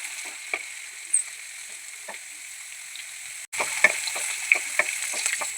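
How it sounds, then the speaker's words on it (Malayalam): Fried cauliflower and ginger scooped from a pan of hot oil, with a steady loud sizzle and frying crackle, a short break, then renewed sizzling as the spoon scrapes and lifts the pieces, heard close. "ഇതെല്ലാം കോരി മാറ്റാം."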